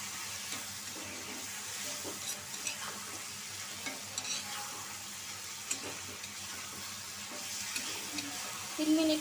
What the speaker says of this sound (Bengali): এখন আমি 2 থেকে 3 মিনিট কষায় নিব।